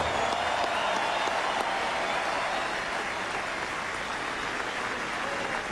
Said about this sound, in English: let's have a warm round of applause for the United States Military Academy at West Point Cadet Color Guard.